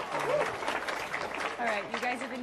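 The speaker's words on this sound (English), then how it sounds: "Everyone give him a round of applause" Lively audience applause and cheering from a comedy crowd, continuous and close, with voices mixed in over the clapping.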